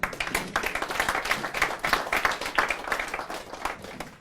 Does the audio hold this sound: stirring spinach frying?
no